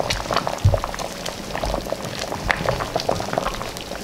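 Trinidad corn soup bubbling in a pot as it is stirred, with soft liquid sloshing and a few light knocks against the pot, fairly close and steady throughout.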